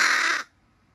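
A crow gives a single close, harsh caw lasting under half a second, which cuts off abruptly into quiet.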